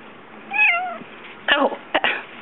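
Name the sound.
cat meowing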